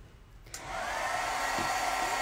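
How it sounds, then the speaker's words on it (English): A heat gun switches on and runs with a steady, loud blowing whir, used for melting embossing powder during card making. A brief click comes just before the airflow rises. "I'm gonna turn back the heat gun."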